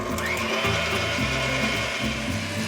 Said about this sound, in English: Turn on the mixer and just let this combine.